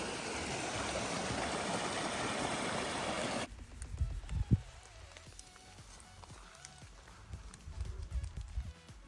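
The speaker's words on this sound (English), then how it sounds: "Got the first water crossing." Stream rushing loudly at a water crossing on the Appalachian Trail approach from Amicalola Falls, a steady close wash of water for a few seconds before cutting to quieter footsteps and scuffs along the trail.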